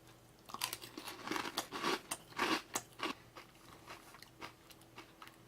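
Someone eating Cap'n Crunch cereal with milk, close crisp crunching bites in an irregular chewing rhythm, fairly quiet and alone.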